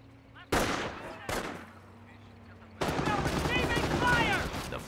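Gunfire from a Company of Heroes World War II strategy game, with sharp bursts of rifle and machine-gun fire that break out, pause, then turn into sustained rattling volleys, with a voice heard in the mix.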